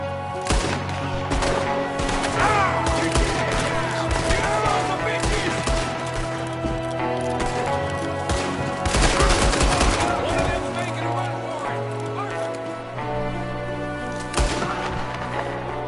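Rapid bursts of gunfire from a window in a Western shootout video game, cracking repeatedly over a tonal music score, with shouted voices mixed in and dense, loud shots through most of the scene.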